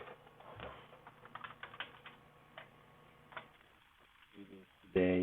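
Computer keyboard typing while entering code on a data platform, a run of quick irregular clicks through the first few seconds, fairly close and moderately quiet, then a brief louder clatter at the end.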